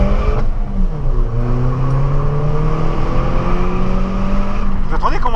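A Citroen DS3 Racing with a 203 hp engine accelerates hard from inside the cabin, its steady loud engine drone rising in pitch with an airy blowing rush, ending in a quick rev change.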